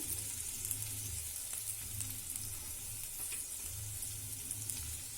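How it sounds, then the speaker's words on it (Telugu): Chopped ginger and green chillies fry in a pan with a soft, continuous sizzle and faint crackle. It sounds quiet and steady, and no one speaks. "ఇది కొంచెం ఫ్రై అవనిద్దాము."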